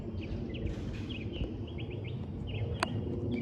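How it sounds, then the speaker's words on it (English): Faint bird chirps flicker high above a steady low outdoor rumble in the Galleria area of Houston, Texas, scattered short calls coming from a distance with no speech. "You could hear the birds in the distance."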